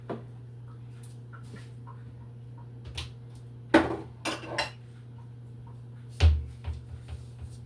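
A spoon scrapes and knocks against a bowl while strawberry muffin batter is stirred, giving scattered clinks and a few louder taps over a steady low hum.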